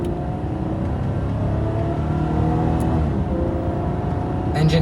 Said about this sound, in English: Engine has a wonderful sound to it.